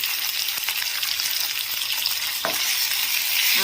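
Mutton liver and onions frying in a pan give off a steady, close sizzle with the occasional scrape of stirring, and no one speaks.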